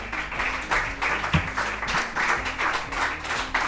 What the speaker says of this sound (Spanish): Fuerte el aplauso también